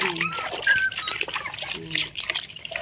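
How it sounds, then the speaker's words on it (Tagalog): Water trickles and splashes in short bursts as a puppy is bathed, with people talking over the sound throughout. "Ayan, pinapaliguan po yung tuta."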